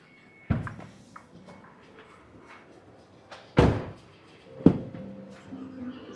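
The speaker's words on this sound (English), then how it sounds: "So all the doors are electric doors." Doors of a 2024 Xpeng X9 electric MPV with electric doors thud and shut several times, with one sharp loud slam midway and a softer thunk after it, against quiet background hum.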